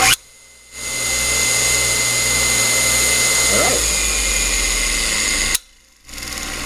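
An A.O. Smith stationary motor spins up after a brief pause and then runs with a steady, close electric hum and a faint mechanical click partway through, before cutting off and restarting near the end.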